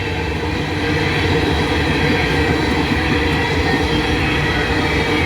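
A heavy freight train rumbles past close by, loud and steady, with rolling wheel clatter and a faint metallic squeal over a constant roar.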